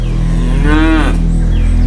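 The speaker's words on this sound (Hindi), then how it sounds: "अरे अम्मा, अड़ियल भैंस है वो, नहीं मानेगी।" A stubborn buffalo gives one loud, close, drawn-out moo over a steady low hum.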